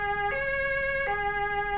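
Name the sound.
police sirens in Altis Life video game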